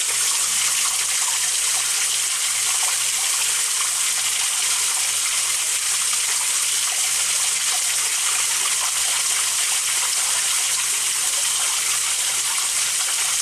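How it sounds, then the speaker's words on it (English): Hot water runs from a tap into a sink, a steady, even gush that continues unbroken and fairly close, with no voices over it. "I'm going to fill the sink with hot water"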